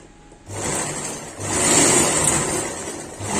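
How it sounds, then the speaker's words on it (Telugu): A sewing machine stitches blouse fabric in a short, close burst, its motor whirring steadily for a few seconds with a slight rise in the middle. "ఇప్పుడు దీన్ని స్టిచ్ చేద్దాం."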